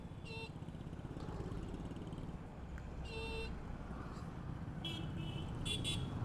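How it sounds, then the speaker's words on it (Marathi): Busy road traffic in Kolhapur, with engines droning and several short car horn toots cutting through at intervals, fairly faint and steady throughout. "काय ते ट्रॅफिक कायमची बोंब आहे बाबा या रोडला"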